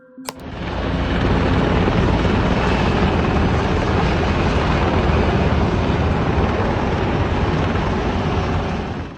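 A helicopter flying over Washington, D.C.: a loud, steady engine roar with a rumbling rotor throb, holding constant for several seconds after a brief start.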